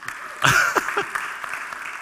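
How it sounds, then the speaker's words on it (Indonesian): Brief scattered clapping from an audience, a few claps rising quickly then thinning out, fairly faint and close. "Tepuk tangan dong."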